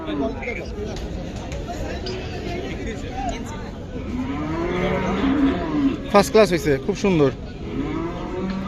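Cattle low repeatedly at a busy Qurbani cattle market in Hazratpur, their moos rising and falling under close, steady chatter from buyers and sellers.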